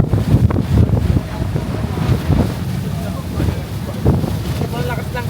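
Strong wind rumbles across the microphone in uneven gusts in Ho Chi Minh City, Vietnam, while people talk faintly underneath amid steady background noise.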